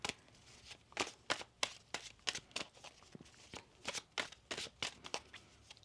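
A deck of tarot cards is shuffled by hand in a quiet room, a quick rhythmic run of soft crisp riffles and taps, close and fairly faint, with no speech.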